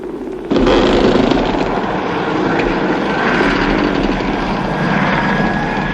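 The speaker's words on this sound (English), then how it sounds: "The helijet has just landed." A helijet aircraft, a futuristic craft from the Joe 90 puppet series, roars loud and close. A dense, rushing engine wash starts abruptly and holds steady for several seconds, with a faint whine running through it.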